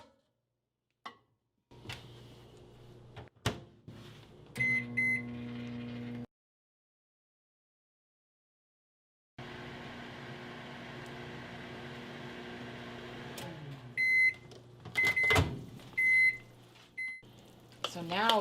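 A microwave oven hums while heating keto calzone dough, its steady drone running in two stretches separated by silence, with door clicks and high completion beeps near the end, close up.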